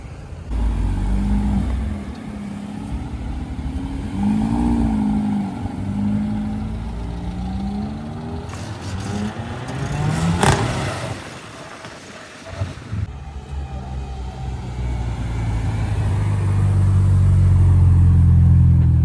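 A BMW M135i with a manual gearbox and a nearby 5-litre Ford Mustang at a supercar gathering in the Vercors, engines rumbling and revving with rising and falling pitch, one sharp rev burst midway, then a heavy low growl swelling at the end.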